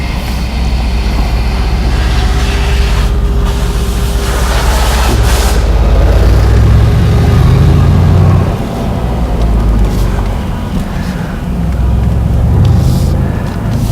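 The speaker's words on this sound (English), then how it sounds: "We'll just run it up the road here slightly and let you listen to the exhaust note." A 2018 Mercedes-Benz C63S AMG at operating temperature, engine and exhaust rumbling steadily and loudly nearby, with a deep swell in the low end as it pulls away, no voices.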